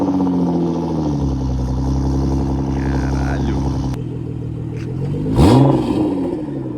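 BMW fitted with a full stainless steel exhaust, its engine droning and revving loudly up close, with a sharper rev surge near the end while people exclaim in the background.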